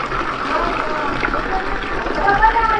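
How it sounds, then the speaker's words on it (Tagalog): Strong water rushes steadily in a basic public toilet, a dense close wash of sound, while a voice speaks over it. "Malakas naman yung tubig."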